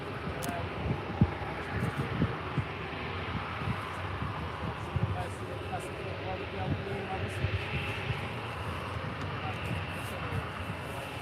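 An easyJet Airbus A320neo at Faro airport gives a distant, steady engine rumble mixed with wind buffeting, with faint voices talking in the background.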